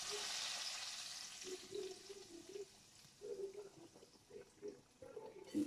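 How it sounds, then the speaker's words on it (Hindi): Green chilies fry in desi ghee, giving a soft, steady sizzle that fades, followed by intermittent low stirring and scraping sounds in a home kitchen. "थोड़ी सी सब्ज़ मिर्चें जो है ना वो कर रही हूँ फ्राई देसी घी में"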